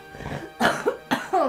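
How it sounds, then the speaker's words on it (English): Several short, close coughs, two or three sharp bursts with brief pauses between them, and no speech. "Try not to cough and it doesn't work."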